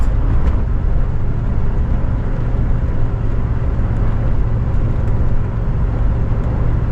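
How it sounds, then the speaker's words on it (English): An off-road vehicle climbs toward a bridge on a desert trail between South Carrizo Creek and Canyon Sin Nombre, its engine producing a loud, continuous low rumble with heavy wind and road roar and no break. "So we are driving up that bridge, and that's where the end of the road is."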